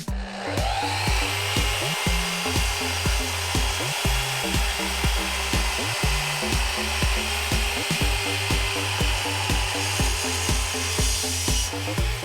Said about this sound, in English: the first thing I need to do is chop this piece of mahogany up